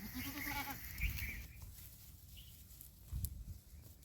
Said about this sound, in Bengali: এখানে পাঁঠা ছাগলটা চড়ছে এইখানে দুটো চড়ছে একটা পাঁঠা ছাগল আর একটা মা ছাগল